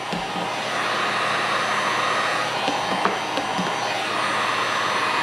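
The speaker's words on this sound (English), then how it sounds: "When I hit it with the heat gun, the line that starts to come up in it will start to squiggle." A heat gun shrinks window tint film onto a car window, making a continuous loud blowing roar that stays level throughout, with a few small clicks and handling sounds close by.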